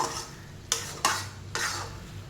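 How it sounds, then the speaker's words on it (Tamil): Garlic pickle mixture is stirred in a pan with a spoon, giving three quick scraping strokes over a low background sizzle, close and fairly loud with no voices. "இது எல்லாத்தையும் மிக்ஸ் பண்ணுங்க"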